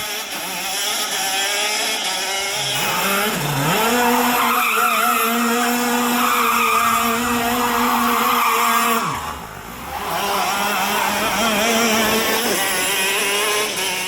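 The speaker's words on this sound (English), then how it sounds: "I did do some very violent donuts and some burnout" A KZ shifter go kart engine screams loud and close while the kart spins violent donuts and burnouts, its revs climbing and sweeping with tires skidding, easing briefly before it winds up again.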